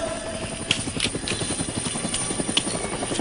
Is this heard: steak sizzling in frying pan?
no